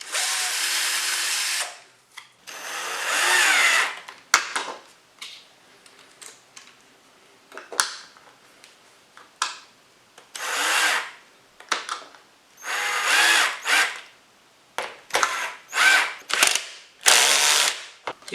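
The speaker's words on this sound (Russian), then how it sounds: "Использую сверло двоечку." An electric drill with a 2 mm bit drills wood in repeated bursts, spinning up and stopping, loud and close, with short quiet gaps and clicks between runs.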